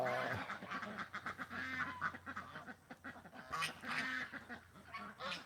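Geese honk and a Muscovy crossbreed drake quacks in a rapid, overlapping flurry of close, loud calls, with scattered bursts of squabbling fowl continuing throughout.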